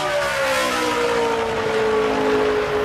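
Morgan Shepherd's number 89 NASCAR Nationwide Series stock car on a qualifying lap, a loud sustained engine roar with a slowly falling pitch as it runs past at speed.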